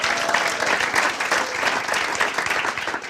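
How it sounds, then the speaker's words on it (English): Sustained applause with some cheering from a large audience at a grant award ceremony, a dense, steady wash of clapping throughout. "I feel the applause is starting to dim"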